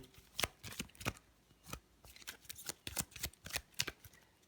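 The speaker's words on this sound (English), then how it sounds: "Then we do a good shuffle." A deck of Lost Ruins of Arnak board game cards being shuffled by hand, a run of crisp riffling bursts in quick irregular succession, close and fairly quiet with no talking.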